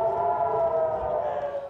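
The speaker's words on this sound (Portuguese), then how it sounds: "As sirenes soaram no norte de Israel." Civil defense sirens in northern Israel hold a steady, droning wail that fills the whole short stretch at an even, moderately loud level.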